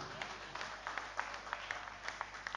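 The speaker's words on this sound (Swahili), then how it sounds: "Patia Yesu makofi mazuri" A church congregation gives applause for Jesus during a sermon, heard as faint, distant, fairly regular hand claps over a low background hum.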